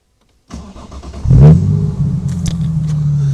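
A Morgan Roadster with a 3.0-litre V6 cranks and fires into a loud, close idle with a brief rev flare, then settles into a steady burble from its exhaust, with no talk.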